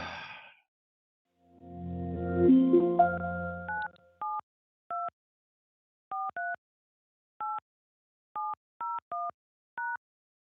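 Phone keypad tones dialing a call back: after a brief burst of garbled line noise, about a dozen short dual-pitched beeps sound clearly one after another with uneven gaps, alone against silence.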